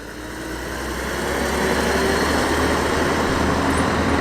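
A vintage British Leyland truck at a classic vehicle run holds a steady, loud engine drone that swells slightly in the first seconds, then runs evenly with no voices.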